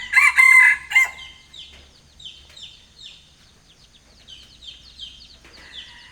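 A rooster crows loudly and close at the start, then chickens cluck and chatter softly through the rest, with a faint low hum underneath.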